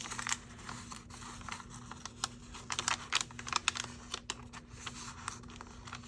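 Paper junk mail envelope being folded and handled, a quiet series of crisp crinkles, taps and rustles in irregular bursts close to the microphone.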